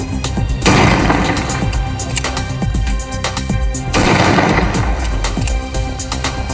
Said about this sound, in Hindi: लाइसेंसी बंदूक से दनादन फायरिंग की गई